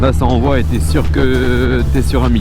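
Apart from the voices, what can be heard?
None of the usual background noises is heard.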